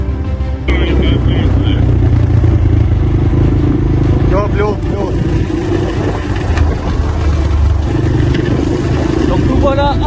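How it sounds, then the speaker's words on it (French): Motorcycle ride with a passenger, a loud continuous engine drone and wind rumble with rattling clatter throughout, and voices speaking over the noise. "et là on part sur la moto"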